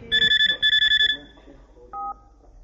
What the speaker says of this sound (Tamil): ஒரு நிமிஷம், சந்திரக்கு ஃபோன் பண்ணிட்டு